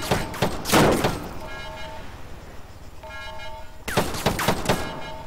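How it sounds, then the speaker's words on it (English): Gunfire in Arma 3, with two short bursts of rapid shots, one at the start and another a few seconds later, separated by a quieter stretch of tonal in-game sound. "Stop shooting me!"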